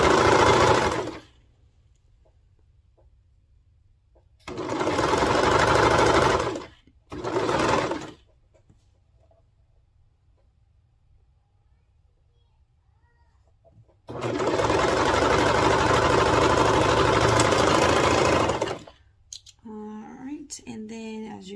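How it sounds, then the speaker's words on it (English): A cover stitch sewing machine top-stitches a leg band on a baby bodysuit in three loud, close, whirring runs of a few seconds each, the last and longest near the end, separated by silent pauses with faint noise at the close. "I'm going to go ahead and top stitch this down with my cover stitch"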